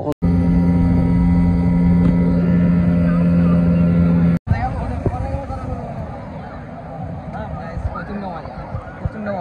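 A speedboat ride on the sea at Digha beach: a loud, steady droning engine hum, then rushing wind and water spray after a brief break, with voices murmuring underneath.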